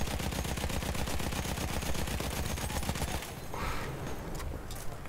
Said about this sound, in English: Just mag dumping them.